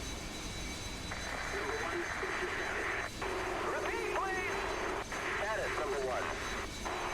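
Harrier jump jet engine thrust in War Thunder: a steady loud jet roar with a rising whine as thrust builds during a gentle hover descent, while someone talks over it.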